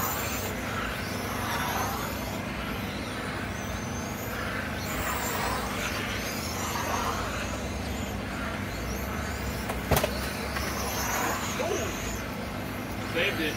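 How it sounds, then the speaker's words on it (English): Vintage touring RC cars race around a parking lot track, a steady high electric whine rising and falling as they pass, under continuous race commentary. "Trying to close the gap with Ali."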